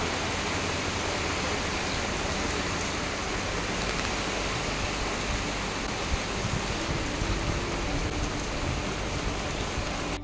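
Cyclone Remal drives a steady, dense roar of heavy rain and wind outside, a constant broadband wash that stays loud and even throughout with no voices.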